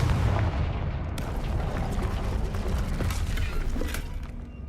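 Fiery Confringo spell blasts in Hogwarts Legacy, a rumbling low boom with crackling debris that stays loud and dense for several seconds, the sound of a game explosion.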